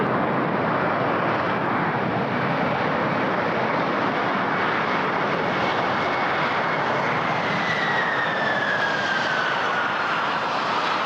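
A fixed-wing airliner on short final to runway 15 at Toronto Pearson airport roars steadily with a broad jet-engine rush, staying loud and close for the whole stretch, with a rising whine appearing toward the end.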